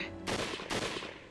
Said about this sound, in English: the crack of a nearby gunshot whipped through the air